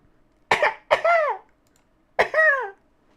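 Three short, close coughs, the last two with a rough rasping tail, sound alone in a quiet room.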